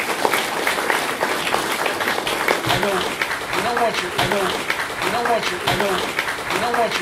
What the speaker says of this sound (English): Let another round of applause